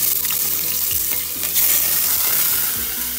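Onion is added to a hot pan while cooking a galinhada, a chicken and rice dish. It gives a loud, continuous sizzle with occasional stirring scrapes close by, and no talk.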